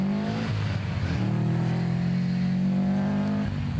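Rally car number 42, crewed by Craig Kennedy and Jonathan Kennedy, pulls away from the start line of a rally stage in Harlech, its engine loud and close, revving hard through rising gear changes with a brief dip near the end.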